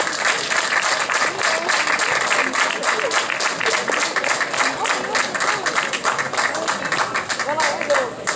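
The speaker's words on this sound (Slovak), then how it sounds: "Patrí im za to poďakovanie a potlesk." Audience applauding donors called up to the stage at a parish event in Nová Lesná, a dense, steady patter of many hands clapping at close range for the whole stretch, with a voice faintly underneath.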